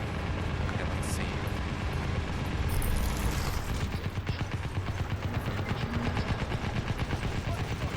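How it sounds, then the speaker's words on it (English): Rapid automatic gunfire in the video game Crysis, a dense run of repeated shots with explosive bursts, continuous and fairly loud under a busy game soundscape. "Why do you keep shooting there?"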